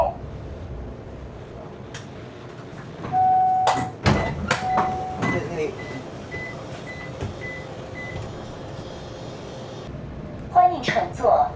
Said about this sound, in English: 欢迎乘坐罗湖无人驾驶小巴